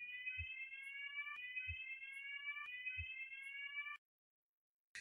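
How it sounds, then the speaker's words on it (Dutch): Fire alarm triggered by a sandwich left too long under a grill, sounding three repeating cycles of rising electronic tones with low thumps, then cutting off abruptly into silence. "we werden gestoord door een brandalarm, wat een broodje bleek te zijn die ergens bij iemand te lang onder de grill had gelegen"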